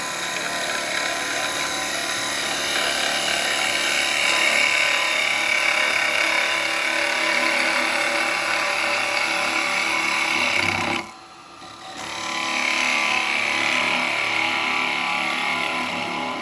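A wood lathe spins a natural edge bowl while a bowl gouge makes a push cut, giving a loud, continuous whirring hiss that briefly drops away near the end before resuming.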